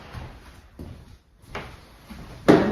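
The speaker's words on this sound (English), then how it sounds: "Soft closed door." A soft-close vanity cabinet door in an empty house shuts with a few quiet bumps and brushes of wood, then a firmer muffled thud at the end as it settles closed, heard nearby in a quiet room.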